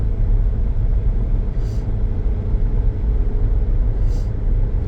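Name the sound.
2010 Scion xB car accelerating up a hill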